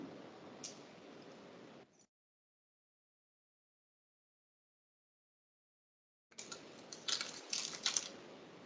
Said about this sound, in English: As Emily is typing that